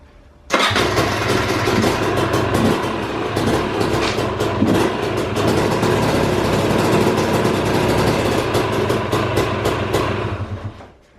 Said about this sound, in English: pull clutch in, put into gear, and you want to confirm that it doesn't jump excessively or it doesn't drag, and then slowly release the clutch